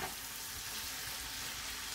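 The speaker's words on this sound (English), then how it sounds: "let's fry up" Food frying in a pan gives a steady, close, loud hiss and sizzle throughout, with no talking.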